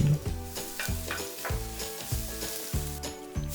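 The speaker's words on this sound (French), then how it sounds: "Faire revenir ensuite à feu moyen avec une petite cuillère à soupe d'huile, l'ail et le gingembre, une quinzaine de secondes." Garlic and ginger frying in a spoonful of oil over medium heat, giving a steady close sizzle broken by stirring strokes, with music playing in the background.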